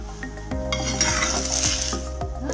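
Sweet wheat-flour poli cooking on a hot pan, a soft sizzle rising under a few sharp clinks and scrapes of a utensil against the pan, close and without talk.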